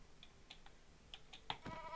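Faint, sparse bleats from sheep in the Minecraft video game, a few short calls spaced apart against a quiet background, no talking.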